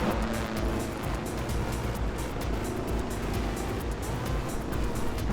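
A heavy buggy in the video game Trailmakers drives with a steady, loud engine drone and road rumble that continues unbroken, with no voices.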